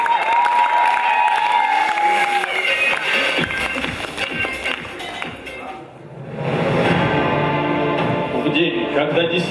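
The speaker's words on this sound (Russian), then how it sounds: "Ваши аплодисменты." Audience at an Open League KVN comedy contest in 2016 applauding and cheering loudly, a dense, full wash of clapping and shouts that dips briefly, then surges again.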